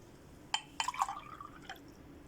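Water from a bottle being poured in a few short splashy bursts for an Indian costus (qust hindi) remedy, quiet and close, with no talking.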